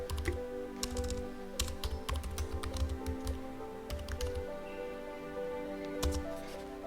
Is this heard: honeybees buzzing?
no